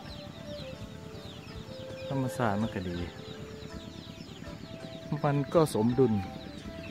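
Chickens cluck and call in two short bursts while foraging around a rural Lao village farmyard, fairly close, with someone talking throughout.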